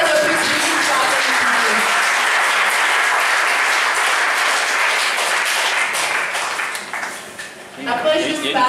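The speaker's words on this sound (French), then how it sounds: "Applaudissez une fois de plus." Audience applause at a school journalism and media award ceremony at lycée Pierre Savorgnan de Brazza, dense and sustained before thinning out near the end, with a voice speaking briefly as it fades.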